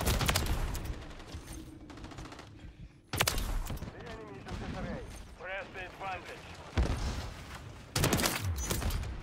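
Sniper rifle gunshots in a shooter video game ring out as sharp, loud cracks with echoing tails, several spaced shots and bursts across the span, while someone talks between them.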